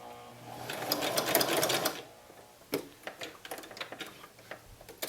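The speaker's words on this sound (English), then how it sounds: "It takes a little while to sew the eye on." A sewing machine runs in short bursts close by while an eye is stitched onto a stuffed bat pillow, a fast mechanical chatter followed by slower, separate ticking stitches.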